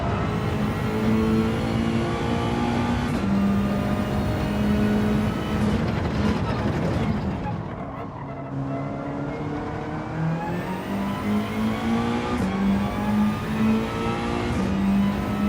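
Racing car engines in a racing video game rev up and shift through gears, rising and falling in repeated accelerating whines, loud and continuous with a brief dip midway, no talking.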